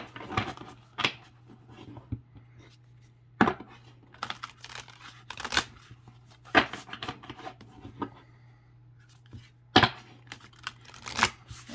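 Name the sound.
shuffling large astrology cards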